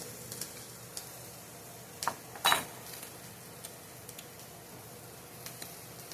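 A small spoon clinks against a dish of homemade thousand island dressing: two brief, close metallic ticks in quick succession amid quiet kitchen room tone.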